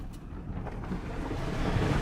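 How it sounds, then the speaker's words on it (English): A vehicle fords a stream on a backcountry trail, with rushing, splashing water and low rumbling wash that build steadily louder and closer over a couple of seconds, no voices. "We are literally about to drive through the water right now"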